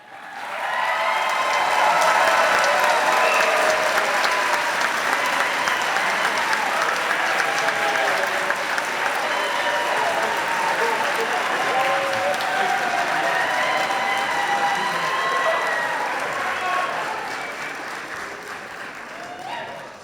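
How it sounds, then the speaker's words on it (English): A large graduation crowd gives sustained applause for twenty seconds, a steady, full wash of many hands clapping at once that tapers off near the end. "give them a big round of applause"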